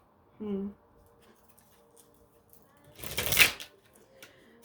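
A brief burst of tarot cards being shuffled by hand, a quick riffling flutter lasting under a second after a short voice sound.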